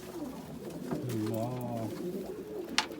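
A pigeon in a coop gives a single low, drawn-out coo, close and fairly soft, while people talk around it.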